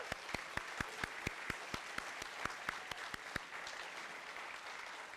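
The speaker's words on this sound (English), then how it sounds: "let's give all of our student performers and their teachers another round of applause, please." Audience applause for student performers and their teachers at an elementary school dedication ceremony: a steady wash of clapping with a few sharp individual claps standing out at first, tapering off toward the end.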